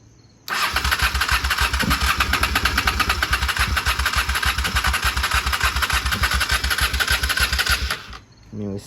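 A 1995 Honda Shadow VLX 600 cruiser motorcycle fires up and settles into a loud, close, rapid idle with an even thumping beat, then shuts off near the end.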